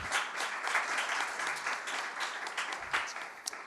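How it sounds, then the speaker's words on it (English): Audience applause fills an event hall at a festival celebration, a dense steady wash of many hands clapping throughout with no voices over it. "I want to applaud one more time all of the presenters"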